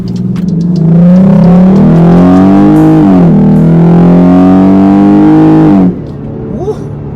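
A 2020 Jeep Grand Cherokee V6 fitted with an MMX throttle body and K&N cold air intake accelerates hard from inside the cabin, engine note rising loud and strained for several seconds before easing off abruptly.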